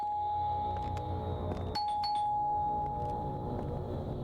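A doorbell chime rings in a spooky Halloween video game, several bright ding tones sounding in quick succession over a steady low ambient drone.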